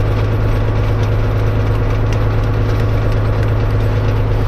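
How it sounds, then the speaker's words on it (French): A tractor engine idles steadily at about 1000 rpm, a loud, even low-pitched rumble with a constant throbbing pulse and no variation, heard close up with no voices. "À peu près 1000 tours au moteur."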